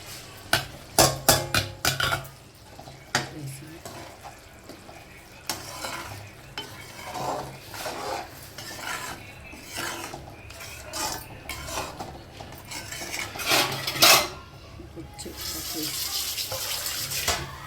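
Tamarind fish curry bubbles in a pot while a spoon stirs and scrapes against the metal. Sharp clinks and knocks come in bursts over a soft simmering sizzle, close by and moderately loud.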